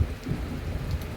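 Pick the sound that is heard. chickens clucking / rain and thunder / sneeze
rain and thunder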